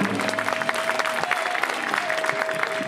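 Guests at a traditional Korean wedding ceremony clap in a continuous round of applause, dense and even, with a thin sustained tone and faint voices underneath.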